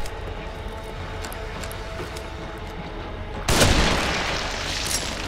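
A single heavy sniper rifle shot from the video game The Evil Within bursts out sharply after a low rumbling ambience, followed by a lingering boom and tail.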